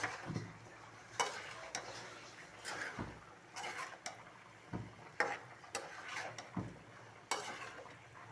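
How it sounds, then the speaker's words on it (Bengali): Chili and cumin powder stirred together in a pan, a spoon scraping in repeated brief strokes with a faint sizzle beneath, close and fairly quiet, with no talking. "সব একসাথে আমি একটু নাড়াচাড়া করে দিই"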